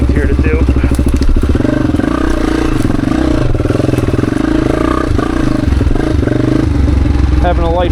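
A Honda XR dirt bike crosses logs on a trail loop, its engine chugging and revving continuously and loud, with irregular thumps and clatter as the tyres climb and drop over the wood.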